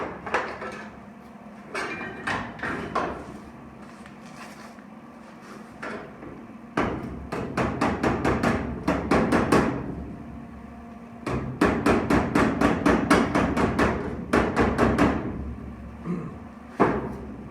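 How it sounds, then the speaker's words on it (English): Homemade body hammers strike metal in rapid bursts of sharp, ringing blows, with pauses between clusters, close and loud, while replacing floors on a vehicle. "I built these hammers, all these different body hammers, and they work awesome"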